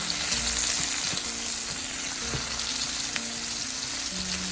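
Ingredients for Thai eggplant with basil and cashews saute in a pan, a dense, loud, even sizzle with occasional stirring scrapes and clicks.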